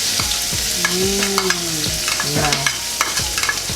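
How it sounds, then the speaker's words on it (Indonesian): Spice paste sautéing in hot oil in a wok for mie celor Palembang, giving a continuous hiss and crackle as a utensil scrapes and stirs in quick strokes; a voice speaks briefly over it. "Kita tumis bumbunya ya"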